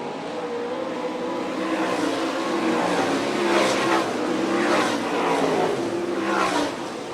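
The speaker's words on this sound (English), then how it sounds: "Here they come on the gas out of turn 4." Sprint race cars power out of turn four on a dirt oval at an All Star Circuit of Champions Speedweek race in Fremont, Ohio, a loud sustained roar of engines swelling in waves as they accelerate past.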